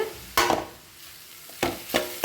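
Fresh vegetables stir-frying in a pan for veg fried rice, two short bursts of tossing and stirring sizzle separated by a quieter simmering pause.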